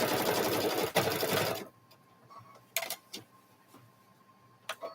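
A sewing machine stitches the lining of a quilted handbag in a steady, loud, rapid run for about a second and a half, then stops, leaving quiet room tone broken by a few small clicks and handling sounds.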